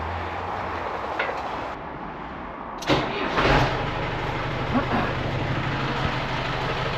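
A small Ford tractor engine runs steadily at close range, a continuous rumbling drone with a brief rise in loudness partway through.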